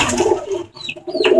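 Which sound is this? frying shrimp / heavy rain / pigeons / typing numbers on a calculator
pigeons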